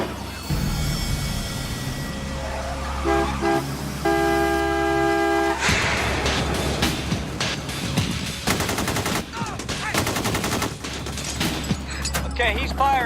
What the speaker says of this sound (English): Okay, he's firing. He just shot through his own window.